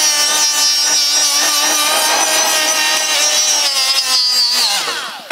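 Carbide bit deburring the cut edge of a stainless steel tube for a downpipe, a loud, continuous high-pitched grinding whine with rhythmic pulsing, slowing in pitch as it winds down at the end.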